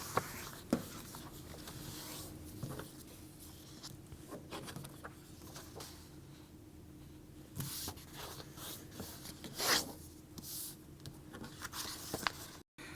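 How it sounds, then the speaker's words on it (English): A printed paper sheet is folded by hand from left to right, giving soft scattered rustles and a couple of louder crisp crinkles, close by in a quiet room. "fold it left to right"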